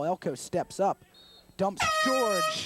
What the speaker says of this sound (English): that deafening sound you just heard is the air horn here in the press box